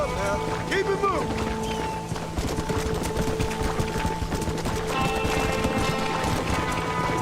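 A horse's hooves clip-clop at a quick, steady pace in the Western video game Red Dead Redemption, under continuous game ambience and music with a voice speaking over it.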